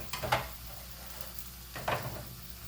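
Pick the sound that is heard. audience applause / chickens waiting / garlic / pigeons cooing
garlic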